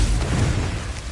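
A Confringo blasting curse explodes in Hogwarts Legacy as a brief, loud, broad rumbling blast that fills the moment and fades slightly toward the end.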